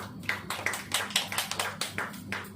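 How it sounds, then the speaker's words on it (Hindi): A church congregation claps together during a sermon, about a dozen sharp claps in a steady, even rhythm, moderately close and alone without talk. "ताली बजाइए, ऐसे लगाया करिए।"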